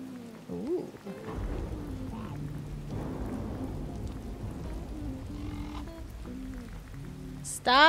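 Steady rainfall from the video game Disney Dreamlight Valley, a continuous soft hiss of falling rain with low thunder rumbling underneath, with no talking.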